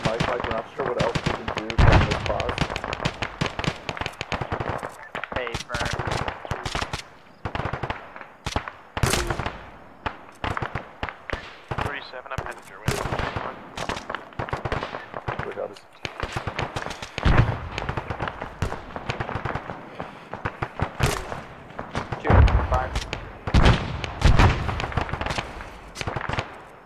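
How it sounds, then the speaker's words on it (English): Gunfire in the military shooter ArmA 3, with rapid bursts and single shots cracking repeatedly at varying distances while players talk over the radio throughout. "there's Zox shooting behind us"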